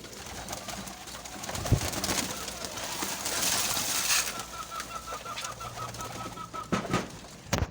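Pigeons eating scattered calcium coo steadily in a dense flock, with low overlapping calls, pecking and wing flutters against constant background noise.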